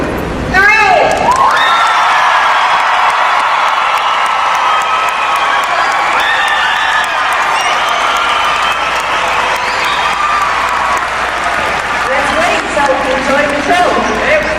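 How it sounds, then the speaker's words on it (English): A studio audience bursts into loud cheering, applause and whoops right after a countdown, a dense roar that holds strong for many seconds before easing, with scattered shouts throughout. "let's give them a real big cheer"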